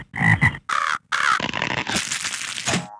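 Loud crow caws mixed with croaking frog calls in quick succession, close and raspy, from a sound clue in the quiz video game You Don't Know Jack.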